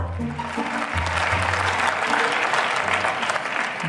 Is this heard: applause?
yes